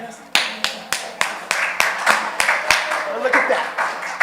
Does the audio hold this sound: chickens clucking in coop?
no